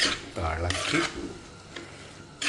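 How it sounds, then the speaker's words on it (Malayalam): Prawns are being stirred in a cooking pan: a spoon scrapes and rasps against the pan in short strokes and the food sizzles loud and close, with some faint clatter. "ചെമ്മീൻ ഇട്ടിട്ട് നല്ലോണം ഇളക്കി"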